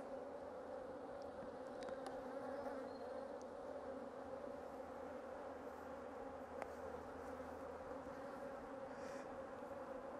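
Honey bees buzz steadily around an open, agitated hive during an inspection, a dense continuous drone close by with no talking.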